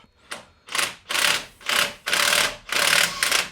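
A CV joint tool works on a Honda Jazz driveshaft, giving six rhythmic rasping, ratcheting bursts about half a second apart, close and fairly loud, each swelling and fading with the strokes.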